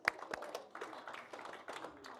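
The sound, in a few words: audience clapping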